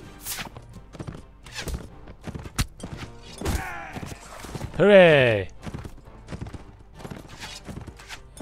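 Horse hooves clip-clop at intervals in Mount & Blade, sharp separate knocks amid battle noise, with a horse whinnying loudly midway and voices and cheering in the background.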